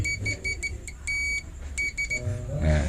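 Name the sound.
multimeter continuity beep while testing a motorcycle ignition coil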